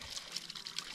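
Water runs steadily from a tap or pipe at an off-grid cabin, a faint, even trickle and splash with no talking.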